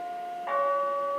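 A doorbell rings once during a stage play, a clear chime that strikes midway and then sustains as a bright, steady tone.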